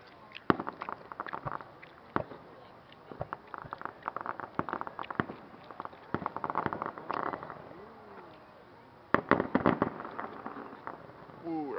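Irregular crackling pops and bursts of Canada Day fireworks in Saskatoon, some sharp and loud, others scattered, with faint voices mixed in, at moderate distance.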